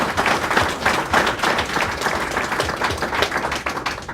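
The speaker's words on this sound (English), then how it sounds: "please join me in a round of hearty applause for Laurie" An audience applauds a presenter at a senior living innovation talk, with dense, loud clapping that rolls steadily for several seconds with no voices over it.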